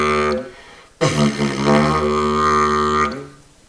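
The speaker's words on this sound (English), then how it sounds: "I'm tightening my lips now until the drone locks in." A wind instrument's drone locks in as the player's lips tighten. A brief tone gives way to a loud, steady, buzzing drone rich in overtones that holds for about two seconds before easing off, close and with no talking.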